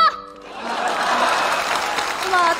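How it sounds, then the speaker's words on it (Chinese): An audience breaks into applause before a singer performs a song, a steady burst of clapping that follows a brief voice at the start and fills the rest of the moment. "请大家先鼓掌后欣赏好吗"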